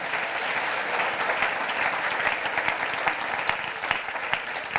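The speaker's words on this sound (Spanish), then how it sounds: "Dale más fuerte ese aplauso al Señor" Loud, steady applause from a church congregation during a sermon, dense clapping filling the whole stretch with no pauses.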